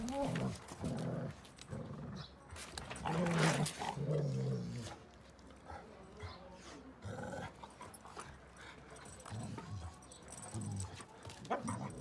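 A Sivas Kangal shepherd dog growls and barks in deep, rough bursts with short pauses between them, fairly quiet and heard mostly alone.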